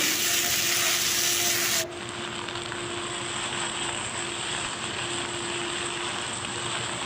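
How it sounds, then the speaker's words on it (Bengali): Ivy gourd (kundru) frying in a pan while being stirred: a steady sizzle of hot oil, loud at first and then softer as the stirring settles, with no talk. "এরপরে আমি এটাকে কুঁদিটাকে নেড়ে নিচ্ছি"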